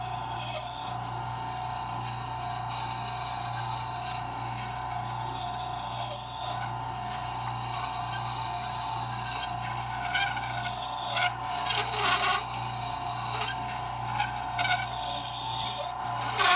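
A wood chisel is rubbed across a sharpening stone in a workshop, giving a steady, close, soft rasping scrape with a few brief louder scuffs.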